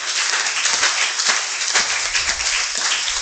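A church congregation at a Sunday service bursts into loud, sustained applause, dense clapping filling the room evenly throughout.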